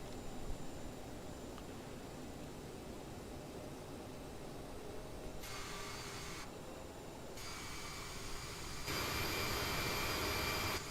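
Jet engines of an Aerosoft CRJ spooling up to takeoff thrust in Microsoft Flight Simulator, a steady broadband roar that swells in stages and grows louder toward the end.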